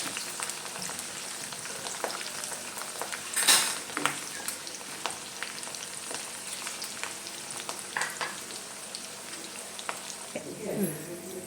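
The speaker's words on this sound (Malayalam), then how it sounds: "ഉലുവ വറുത്തെടുത്തല്ലോ, വെളുത്തുള്ളി ഇട്ടു, അതിൻ്റെ കൂട്ടത്തിൽ പച്ചമുളക് ഇട്ടു." Fenugreek seeds, garlic and green chillies fry in hot oil for a homemade lemon pickle, giving a steady close sizzle with light spoon scrapes and a louder clatter near the start.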